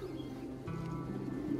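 A two-year-old white-pied racing pigeon gives a low, soft cooing call, close by and quiet, over faint background noise.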